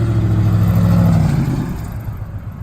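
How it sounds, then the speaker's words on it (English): A deep, throaty V8 exhaust rumble from a 2004 Ford Crown Victoria, loud and steady at first, then easing off and fading lower. "you get a little bit of that V8 rumble, which I like a lot"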